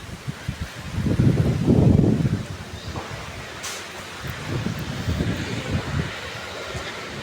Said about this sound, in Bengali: বাতাস উঠছে।